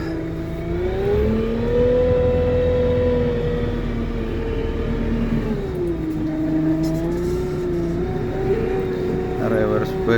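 A Lovol P4110 tractor pulling a Lemken Opal 090 plough reverses during autumn ploughing, its engine giving a steady, loud, close droning hum that rises and dips slightly in pitch throughout.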